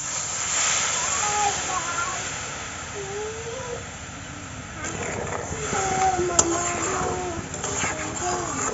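Water poured into a pan of fried hog plums sets off a steady hiss and sizzle for amra chutney, a close continuous crackle with scraping from a spatula and someone talking over it.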